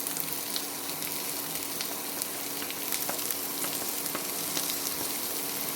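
Small onions frying for a chicken roast, a steady close sizzle and crackle with scattered sharp pops, running unbroken and alone throughout.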